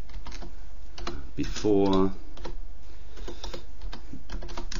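Fast clicking on a computer keyboard while a backup file is renamed, light and close, with a short burst of talk partway through.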